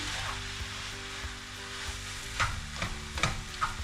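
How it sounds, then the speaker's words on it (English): Egg fried rice with soy sauce sizzling in a hot pan while a spatula stirs it. A continuous close sizzle carries a few sharp scraping strokes near the end, with no talking. "you get your spatula in there and you can really get it mixed around in the rice."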